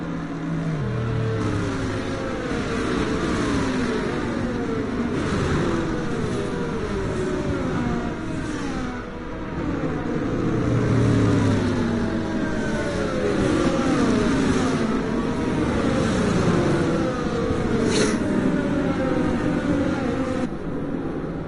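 Racing cars circling a track in a racing video game set in the Netherlands, a steady loud engine drone with shifting pitch sweeps and overlapping cars behind a safety car, with no talk.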